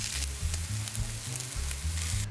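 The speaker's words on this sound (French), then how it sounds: "Mettez-les alors à cuire dans une poêle bien chaude." Meatballs fry in a very hot pan with a continuous close sizzle and crackle over a low rumbling hum, and no one speaks.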